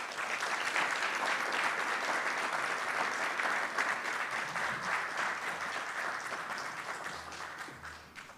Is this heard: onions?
no